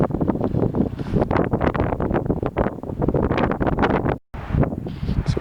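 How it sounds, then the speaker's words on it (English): Strong wind gusting across the shore of the lake at West Thumb in Yellowstone National Park, a loud, steady buffeting roar on the microphone with rustling bursts and one brief drop near the end. "It's so windy out right now."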